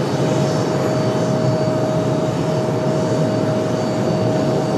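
A Southwest airliner departing from Raleigh-Durham airport gives a loud, steady jet roar that stays constant throughout, with a faint thin tone above it and no talk.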